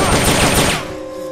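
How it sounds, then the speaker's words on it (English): Rapid bursts of gunfire from the video game Metal Gear Solid: Peace Walker, loud and dense, crackling over a short stretch before dropping to a lower, steadier din. "We're being shot at."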